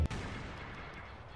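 Blaster gunfire in a Star Wars video game, a steady barrage of shots at close range filling the moment with a dense, rumbling crackle.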